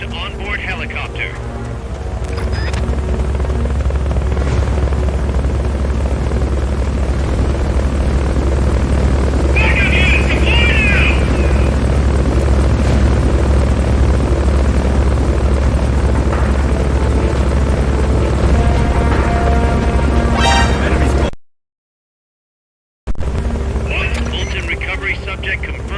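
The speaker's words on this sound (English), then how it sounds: "Subject confirmed onboard helicopter." Inside Metal Gear Solid: Peace Walker, a game helicopter's rotor drones loud and steady. Brief electronic chirps and effects rise above it, with a short silent gap before the end.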